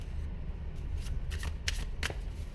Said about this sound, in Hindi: कार्ड्स देखो कैसे निकल निकल कर भाग रहे हैं।